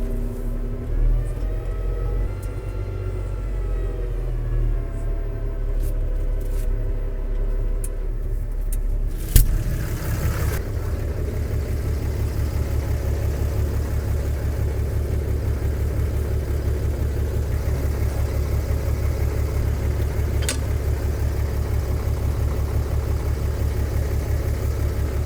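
Steady, loud engine of a front loader running close by at a sawmill, a continuous low drone with a sharp clunk partway through, no talking.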